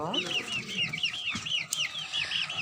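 A flock of chicks clucks continuously nearby, with rapid repeated cheeping and clucking calls overlapping throughout.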